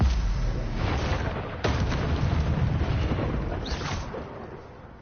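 A heavy explosive blast from the Confringo spell in Hogwarts Legacy gameplay: a loud, rumbling burst with a sharp crack partway through, then a decaying roar. No talk is heard over it.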